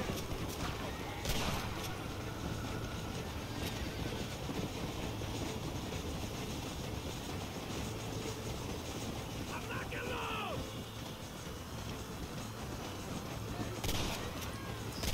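A moving train in the video game Red Dead Redemption rolls on with a continuous rumble and clatter, while gunshots crack now and then and someone talks over the game audio.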